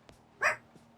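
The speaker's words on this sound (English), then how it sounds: "Bark." A single sharp dog bark sounds close and loud, with a couple of faint clicks around it and a low steady hum underneath.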